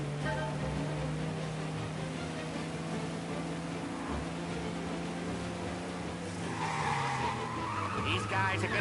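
Car tires skidding in the rain in the Mafia video game set in Chicago: a steady engine drone and screech run for several seconds, and a brighter swell comes near the end as the car wrecks. Game sounds continue underneath.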